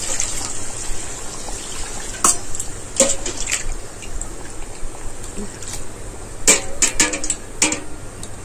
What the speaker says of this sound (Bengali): একটু জল দিয়ে দেবো।